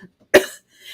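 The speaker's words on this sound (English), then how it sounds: "I'm going into a coughing fit." A single sharp, close cough bursts out during a coughing fit, with faint breathy sounds before and after.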